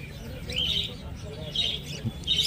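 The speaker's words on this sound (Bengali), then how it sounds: "এখানে যে সমস্ত বদ্রি পাখি দেখতে পাচ্ছেন দাম আছে মাত্র 350 টাকা জোড়া।" Budgerigars and java sparrows at the Bantala bird market in Kolkata, chirping in short high bursts that repeat roughly every second over a low, busy market murmur.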